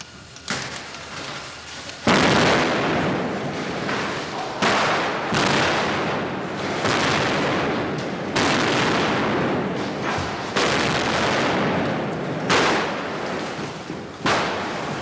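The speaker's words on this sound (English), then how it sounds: "extra cameras are brought in to capture the final explosion" A special effects explosion goes off on the 1983 Superman III film set, as a series of loud, sharp, broadband blasts with roaring rumble between them.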